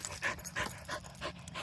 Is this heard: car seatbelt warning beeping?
no